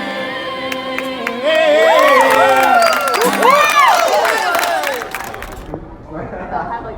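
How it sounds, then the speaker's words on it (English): Crowd waiting in line for American Idol auditions erupting in a loud cheer with whoops and clapping that swells, then fades as talking carries on. "They'll have like a cheer."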